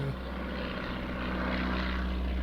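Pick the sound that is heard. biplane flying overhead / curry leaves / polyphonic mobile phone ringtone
biplane flying overhead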